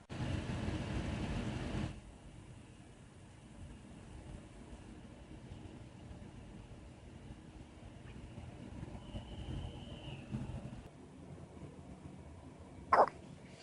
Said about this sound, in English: Hiccup, you gave yourself the hiccups again.